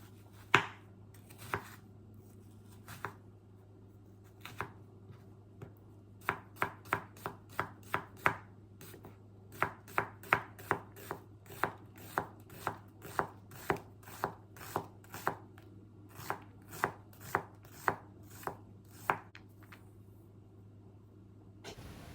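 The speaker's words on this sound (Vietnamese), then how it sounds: "1/4 củ hành mình cắt nhỏ ra." A knife chops an onion on a cutting board, sharp knocks in a brisk, fairly even rhythm with short pauses, over a low background hum.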